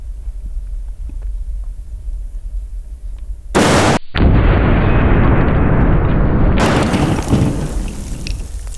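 A .50 caliber rifle fires at a dummy head, making one very loud, sharp blast partway through that is followed by a long, harsh roar that fades off.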